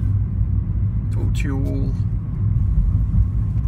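Car engine rumbling low and steady while driving toward a parking spot on a trip to London, with someone talking briefly over it and a rising tonal sound in the middle.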